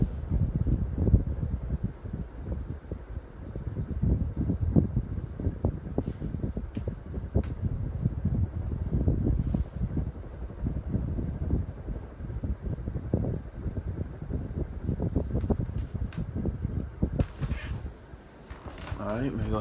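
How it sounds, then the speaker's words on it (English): Steady, close-up rush of air moving off a Codep Stratosphere 52-inch hugger ceiling fan running on high, a continuous broadband whoosh that holds level with no breaks. "how close you can hear the air movement"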